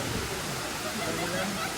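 Sungai Kanching waterfall in a forest trail setting near Kuala Lumpur, heard as a steady broadband rush of falling water, loud and continuous throughout.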